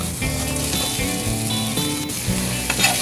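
Pork liver sizzles and fries in a pan, a continuous crackling hiss that swells as pieces are stirred, close and fairly loud, with no talking.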